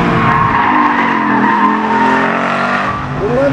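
A Ford Mustang Boss 302 at speed on the Laguna Seca track gives a loud, continuous exhaust drone with shifting pitch and a hint of tire squeal near the end, with no voices.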